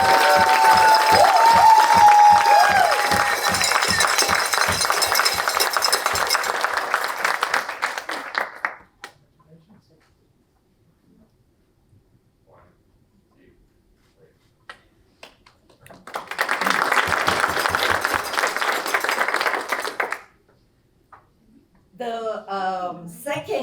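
An audience at a cancer grant award presentation applauds for a recipient. Clapping is dense and loud at first, then stops, a second burst comes later, and a voice speaks at the end.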